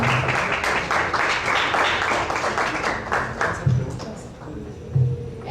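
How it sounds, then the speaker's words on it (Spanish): Audience applause for a doctor receiving a certificate after a talk, dense broadband clapping sustained for several seconds with a few louder claps and some background voices mixed in. "Un fuerte aplauso para el doctor Adrián Albarracín."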